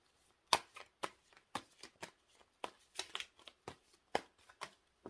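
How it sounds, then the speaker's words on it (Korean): Tarot cards being shuffled by hand in a run of quick, crisp riffling bursts, each a short papery flutter, close and fairly quiet with no talking. "카드를 한번 뽑아볼게요"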